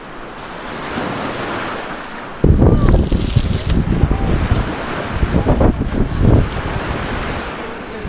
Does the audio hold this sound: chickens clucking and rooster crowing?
no